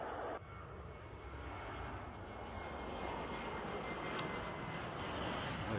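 Jet airliner taking off in the Airport Madness video game: a steady, loud, broadband engine roar that holds and swells slightly throughout, with no talk.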